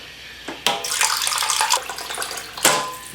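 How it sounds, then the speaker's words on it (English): Tap water pouring into a pot over cleaned bones for broth, a steady broadband rush with splashy surges, close and loud, and no talking. "now that your bones are nice and clean, you cover them in like 2 inches of water."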